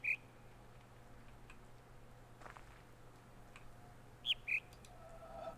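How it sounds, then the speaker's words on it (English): Bird chirps play from speakers in the video game The Witness: one short, high chirp at the start, then a quick pair near the end, over a quiet, faintly humming ambience. "These are speakers that are playing bird sounds."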